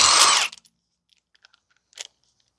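Power tool, likely an impact gun, removing a wheel from a 2010 Toyota Corolla 1.8 with aftermarket rims, heard as one short, loud whirring burst at the start, then faint clicks and a small clunk.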